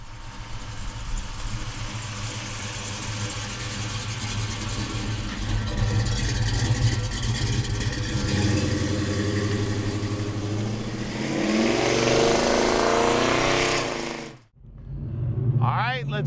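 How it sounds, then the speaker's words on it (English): A 1970 Chevrolet Chevelle convertible with a 502 engine rumbles along while driving, a deep steady engine drone that swells into a louder rev before a brief cutoff and resumes. "Let's take a 70 Chevelle for a ride. 502 under the hood."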